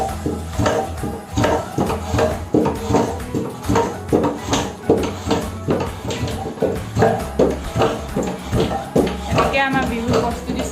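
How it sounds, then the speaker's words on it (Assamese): Rice pounded in a wooden foot-operated dheki, a regular series of dull thumps about two per second, close by and continuing throughout, with background voices mixed in. "চাউলটো ফুটিলে ঢেঁকীত দি দিব লাগে এই আমাৰ ঢেঁকী দি আছে"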